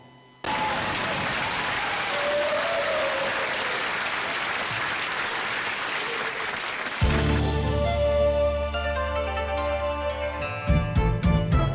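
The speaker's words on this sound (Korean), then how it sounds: "여러분 박수 주시기 바랍니다." Audience at a televised trot music show applauds a singer, with steady dense clapping for about six seconds that then gives way to the band starting the song's instrumental intro.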